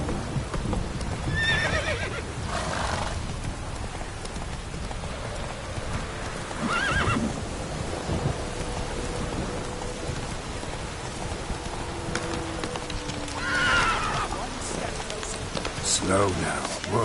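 A horse in The Witcher 3 neighs and whinnies several times over steady hoof clip-clops and a constant patter of rain, with a voice urging it on partway through.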